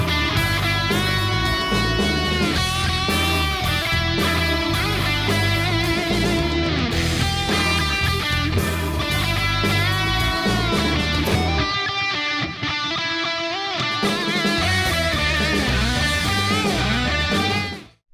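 A distorted electric guitar plays the third verse of a song, thick and sustained with changing chords, dense and loud throughout for about eighteen seconds before cutting off, with no talking.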